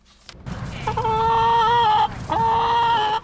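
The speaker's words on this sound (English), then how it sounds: "this chicken coop looks like it'd be on an Indiana farm" Chickens in a school chicken coop clucking and crooning in two long, loud, close drawn-out calls, with a short pause between them over steady background noise.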